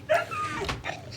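A dog in the Minecraft video game gives a few short whimpering yips and barks, close and clear, one brief burst after another, with no talking.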